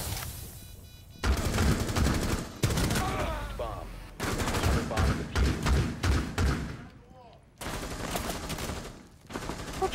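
Gunfire from the Rainbow Six Siege video game during a terrorist hunt mission, loud rapid bursts and thumping shots in several volleys, with players shouting over the action.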